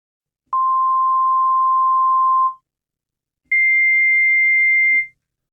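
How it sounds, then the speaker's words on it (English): Two doubled sine waveforms from a Yamaha Montage M synthesizer sound as pure steady tones, a lower one holding about two seconds, then after a short gap a higher one of similar length, clean and alone. "You can see that we double these sine waveforms."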